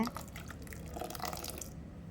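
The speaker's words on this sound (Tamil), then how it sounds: "நம்ம கரைச்சி வச்சுருக்கிற புளிக்கரைசலில் ஒரு கப் அளவுக்கு ஆட் பண்ணிக்கோங்க" Tamarind extract poured into a pan of Ayira fish curry gives a soft, continuous liquid trickle with small drips, faint and close, with no talking.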